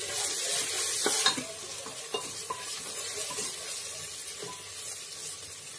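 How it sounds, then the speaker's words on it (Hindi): Ginger-garlic paste being stirred into golden-brown frying onions in a pan for chicken yakhni pulao, with a steady sizzle and occasional scrapes of the spoon, close and continuous, no talking. "इसको हम अच्छी तरह से मिक्स करेंगे।"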